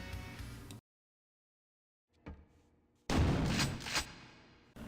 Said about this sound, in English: Firing sounds really sounds heavy, like you're shooting a cannon